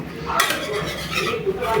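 Close-up metal spoon scraping and clinking against a pan while carrots for carrot payasam with vermicelli are mashed, with steady stirring noise and a faint sizzle underneath.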